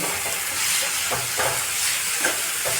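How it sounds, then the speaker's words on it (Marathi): Boiled and chopped spinach sautéed together in a pan for dal fry, a steady close hiss and sizzle with a few soft stirring scrapes, no talking. "जे बॉईल केलेलं पालक आणि जे चिरलेलं पालक जे सोबत आहे ते पूर्ण मिक्स करूया आणि याला आपण छान असं परतून घेऊया"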